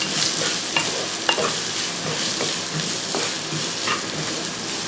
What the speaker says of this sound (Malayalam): സവോള ഒന്ന് വഴറ്റിയെടുക്കണം